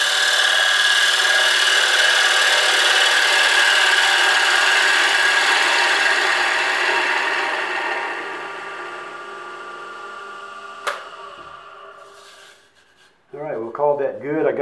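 A Hunter Viceroy hand tool scrapes across wood in a steady, close rasping stroke that fades out near the end, followed by a brief knock and a short spoken remark.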